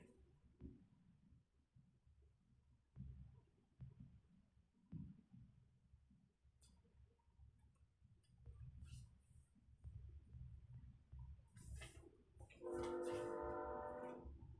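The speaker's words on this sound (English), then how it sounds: "Y'all hear that train?" A train rumbles steadily nearby for several seconds, then its horn blares loudly near the end.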